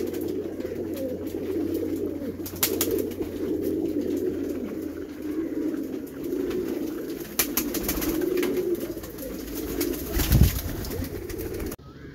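Pigeons coo close by in a low, rolling chorus that runs throughout, with occasional sharp knocks and rattles from a coop door being opened.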